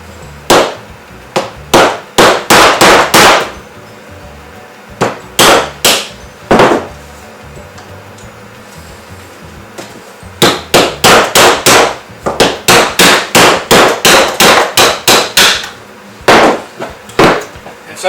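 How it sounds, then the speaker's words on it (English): A hammer knocks a PVC pipe mold off a maple burl and resin cast, sharp loud hard strikes in rapid bursts of several blows separated by short pauses. "A lot of times I'll just knock the bottom off with a hammer"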